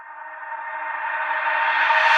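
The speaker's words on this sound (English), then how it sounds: "It is the MB Caution vocal effects." MB Caution vocal effect sample from a UK drill beat: a short, breathy, airy swell that grows steadily louder and brighter over about two seconds, heard alone.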